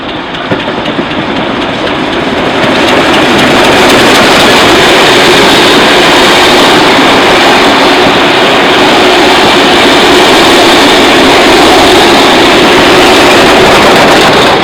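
Steam locomotive K160, running light without carriages, rumbles steadily past at close range at Laverton, a loud continuous roar of engine and wheels with a rhythmic clatter, holding strong throughout.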